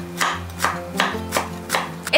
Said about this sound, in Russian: Теперь нам нужно миленько-миленько нарезать чеснок.